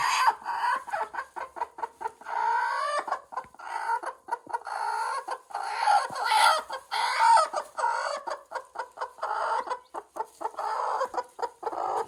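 Chickens cluck steadily and close by throughout, in a coop where chicks are hatching from eggs on the twenty-first day; the calls come in dense, overlapping bursts with no speech.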